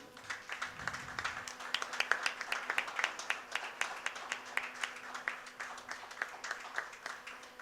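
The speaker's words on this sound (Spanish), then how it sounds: "Un aplauso para don Noé." Audience applause at an international reading fair, a steady patter of many hands clapping at moderate distance in a hall, lasting throughout without speech.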